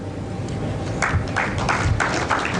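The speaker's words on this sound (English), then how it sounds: "A proper round of applause for Dr. Mahmoud." Conference audience applause for a speaker, a short burst of clapping from a seated crowd in a hall, moderately loud and steady for a couple of seconds.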